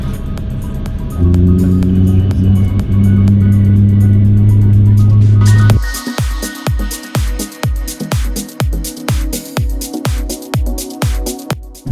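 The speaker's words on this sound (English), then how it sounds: "Taxiing to the runway" An Airbus A350 airliner taxis toward the runway: a loud steady engine hum gives way to a regular thumping rhythm of wheels rolling over pavement joints, with no one speaking.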